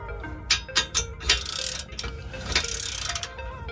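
Metallic ratcheting clicks and clunks from a wrench unloading the torsion bar on a 1999-2006 Chevy Silverado during a Rough Country 1.5-2.5 inch leveling kit install, several sharp close clicks followed by grinding mechanical turning, no talk.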